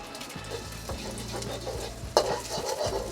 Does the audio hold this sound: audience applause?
no